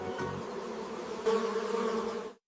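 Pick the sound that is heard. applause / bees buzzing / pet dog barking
bees buzzing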